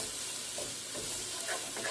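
Finely chopped peppers and garlic sizzle in a pan while being stirred, giving a short burst of close crackling with scraping stir sounds and no talking.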